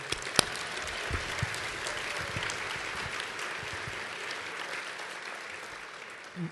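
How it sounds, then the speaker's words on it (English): Audience at a breakfast event applauding, a steady wash of many hands clapping at moderate loudness with a few sharper nearby claps early on, fading slightly toward the end. "If we give a round of applause for Sammy Clark."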